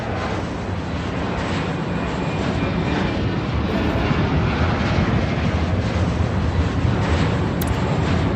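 An airliner takes off in the Airport Madness game, a loud continuous jet roar with rumbling low end that holds steady, close and alone.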